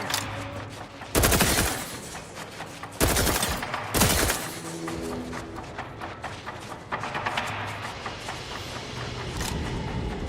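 Gunfire in the video game Outer Worlds 2, with several loud bursts of rapid automatic shots separated by quieter stretches, followed by lighter scattered shots and low background rumble.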